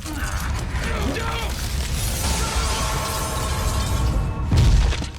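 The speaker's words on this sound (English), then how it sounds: "The glass supporting Richard began shattering." Glass panel holding a man gives way during an aftershock in a TV drama rescue scene, a loud continuous cracking and shattering amid dense rumbling effects and music.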